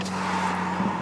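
A Mitsubishi Evolution X FQ 300 accelerates with a steady engine drone heard briefly at moderate level, with no talk over it.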